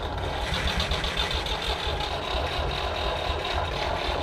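An old tractor engine is cranked over and runs as a loud, rough, continuous mechanical rumble with a steady knocking pulse, close up and with no talk.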